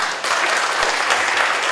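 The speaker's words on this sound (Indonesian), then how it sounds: "Tepuk tangan buat Kang Bima." Audience at a strategic leadership forum in Bandung breaks into brief, full applause, a steady wash of many hands clapping close by.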